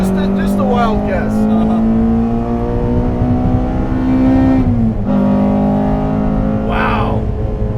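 A 2014 Honda Civic Si with a naturally aspirated engine pulls hard in third gear, its loud steady drone rising in pitch, dipping briefly at a shift, then climbing again under faint cabin talk.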